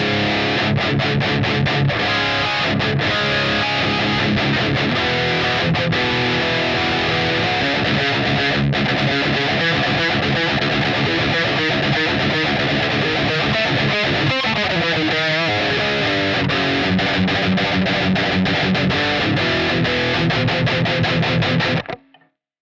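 Electric guitar through a Line 6 HD500 with a Tube Screamer at low drive, lightly overdriven, slightly gritty tone, playing continuously for about twenty seconds, full chords and riffs, then stops abruptly.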